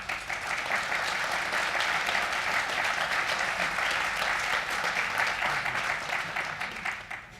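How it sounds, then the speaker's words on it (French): Sustained applause from the audience at a national congress of the liberal professions, a steady, full wash of clapping that holds evenly throughout and eases slightly at the end. "je vous demande de l'applaudir"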